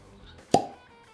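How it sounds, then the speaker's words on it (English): A cork pulls free from a bottle of Russell's 15-year bourbon with a single sharp, close hollow pop against a quiet room. "Cork pop."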